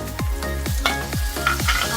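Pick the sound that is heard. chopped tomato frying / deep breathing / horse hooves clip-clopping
chopped tomato frying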